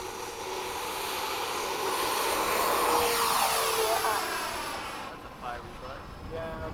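A Hobby King Avios 90mm MiG-17 model jet with afterburner flies in the evening at an airfield, its ducted-fan whine rising and falling as it climbs and passes overhead, with people talking nearby.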